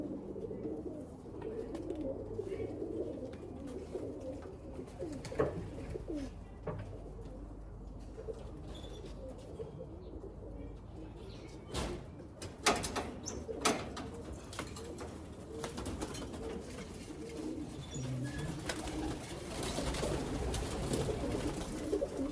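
Roller pigeons coo in soft, repeated throaty bursts inside a loft, with scattered rustling and a few sharper sounds that could be wings or feet.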